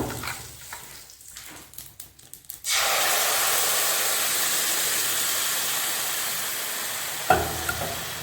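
Puliogare tamarind mix cooks in a pan. After a few seconds of clattering and handling, a loud continuous sizzle and bubble takes over and holds steady, with a brief knock near the end.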